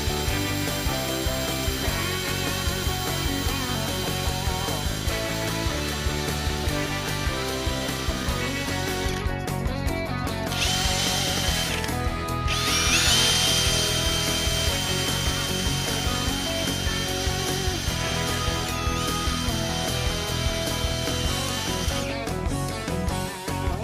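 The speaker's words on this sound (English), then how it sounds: "chucking it in a drill, and I got this bolt stuck all the way through it, so it stops flying out of the drill" A drill spins a Triumph Street Triple frame slider held on a bolt while it is polished with a worn foam sanding pad, giving a steady mechanical whir with rubbing and scraping, changing texture briefly around the middle, close and continuous.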